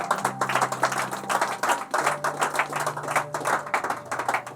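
Church congregation clapping for the Lord during a worship service, a steady run of many hands clapping over sustained music tones, with no clear talk on top.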